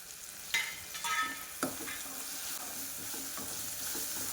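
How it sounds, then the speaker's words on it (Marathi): Gram flour roasting in hot oil in a pan for a garlic spinach curry, a steady close sizzle with a few scraping stirs near the start. "या तेलामध्ये आपल्याला छान भाजून घ्यायचे आहे. डाळीचे पीठ टाकलेले भाजून घ्यायचे आहे."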